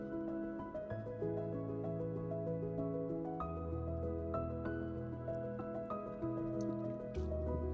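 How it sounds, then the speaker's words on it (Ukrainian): Wet squelching and dripping as grated potato is wrung through cloth, faint and close, over a steady low hum with a few sharper drips. "Тепер ми беремо марочку і її будемо віджимати, щоб всенький цей обвар лишився на дні"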